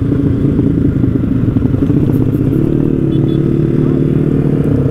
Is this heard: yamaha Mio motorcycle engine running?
yes